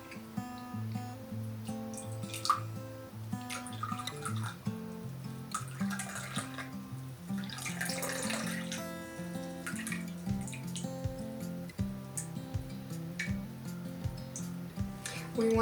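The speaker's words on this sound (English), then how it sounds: "Let's pour and see what we have." Roasted Japanese kukicha stem tea is poured out, giving a soft, steady trickle of liquid, with brief splashes and drips near the end, over faint background music.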